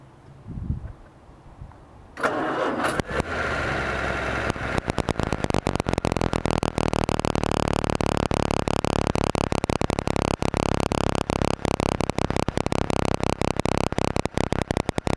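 A 1934 Hudson Terraplane flat-head six cranks briefly, catches, and settles into a loud, steady running idle close by, with no one talking over it.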